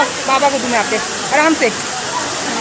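Cold water roars down Dhani Waterfall in Neelum Valley as a constant loud rushing hiss, with people talking over it throughout.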